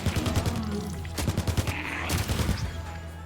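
Gunfire in the illWill video game aimed at coffins, a rapid burst of sharp shots followed by a pause and a second quick volley, loud and close.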